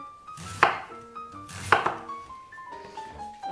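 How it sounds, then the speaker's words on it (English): A knife chops cabbage into thin slices, two sharp close thuds against a cutting board about a second apart, with quiet background tones between them. "I just got finished cutting up some cabbage"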